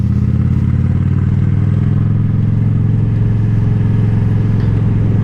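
A Honda Shadow motorcycle riding through town, its engine a loud, close, steady low drone with a faint rhythmic pulse and no voices.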